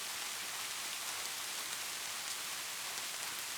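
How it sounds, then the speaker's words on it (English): Steady rain falls in a soft, even hiss of dense drops on surfaces, faint and continuous throughout with no voices. "It's gonna be raining for a while, so it'd be fine for you to take a nap here."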